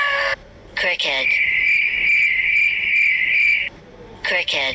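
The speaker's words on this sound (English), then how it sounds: "Cricket." Cricket chirping loudly and close by. Short bursts lead into one long sustained trill lasting several seconds, followed by a few more quick chirps.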